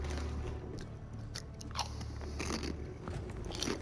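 Kettle-cooked sea salt and vinegar potato chips crunch between the teeth close to the mic, a run of sharp crackling bites and chewing over a low steady hum, with no talk.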